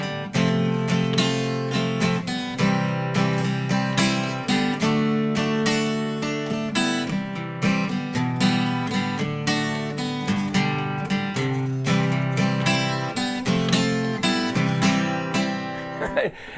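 Acoustic guitar strumming chords for a song, with loose ghost-note strums of a few strings slipped in before each chord change, played close and bright in a steady, lilting rhythm with no talking.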